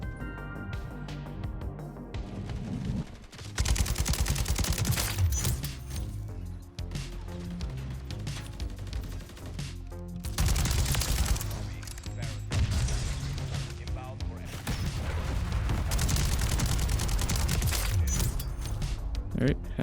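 Kastov 762 AK rifle gunfire in Call of Duty: Modern Warfare III, loud sustained bursts of rapid automatic shots with brief pauses, while someone talks over the gameplay.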